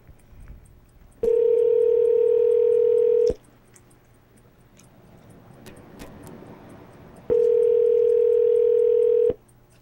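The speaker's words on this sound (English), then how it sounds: "Alright, I guess we'll call Freddy" A telephone line gives two long, loud, steady dial tone bursts separated by a few seconds of quiet room noise, heard while placing a call.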